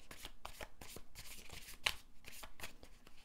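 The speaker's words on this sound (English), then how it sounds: "One more shuffle." A deck of tarot-style cards being shuffled by hand, a run of soft rhythmic riffling bursts at close range, fairly quiet, with one sharper snap near the middle.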